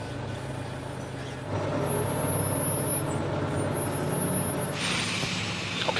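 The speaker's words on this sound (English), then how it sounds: "Alex begins the pushback." Pushback tug pushing an easyJet airliner backward, a steady loud rumbling drone of engines and machinery that grows fuller partway through, with a brief hiss of air near the end.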